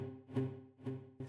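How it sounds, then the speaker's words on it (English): BlurredDelay plugin set to default, giving a bidirectional delay where each repeat swells up into the throw; three soft tonal pulses rise and fade in a quick rhythm, quiet and alone. "BlurredDelay creates this really interesting swell effect into each delay throw"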